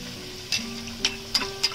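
Batata vadas frying in oil in a pan over a low flame, a soft steady sizzle with a few sharp crackles and spits breaking through at intervals.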